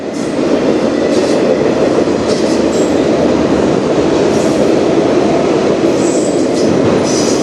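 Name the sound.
train passing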